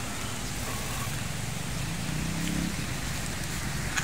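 Steady hiss of rain falling, continuous and even, with a low rumble of a passing vehicle underneath.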